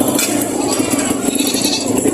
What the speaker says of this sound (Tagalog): dami mo ng kambing na pinagbibili ngayon dito